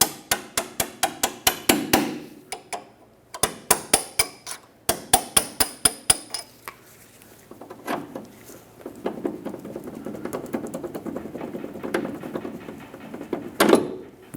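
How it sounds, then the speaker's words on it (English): A hammer taps a bolt out through the strut fork of a 2008-2012 Honda Accord front suspension, rapid sharp metallic strikes in quick bursts with short gaps, then quieter clinks and shuffling as the parts are handled. "Use a hammer and gently tap the bolt through."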